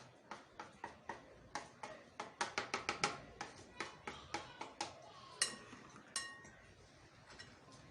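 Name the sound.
spices mixed and put into a bowl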